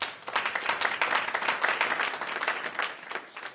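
An audience breaks into steady applause to welcome a young poet onto the stage at a Hindi literary poetry gathering, the dense clapping sustained and fairly close throughout.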